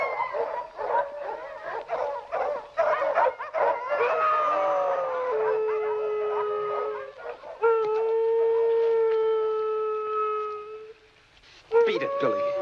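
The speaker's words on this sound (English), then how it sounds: "Don't know what's bellyaching those dogs." A pack of dogs at night in the 1948 film Moonrise barks in quick bursts, then breaks into long, drawn-out howls that rise and hold, loud and close, with a short lull before the barking starts again.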